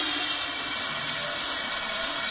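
Contact cleaner sprayed into a Kawasaki KZ400 motorcycle fork tube during a rebuild: a steady, loud, continuous aerosol hiss lasting about two seconds and cutting off abruptly at the end, with no voices.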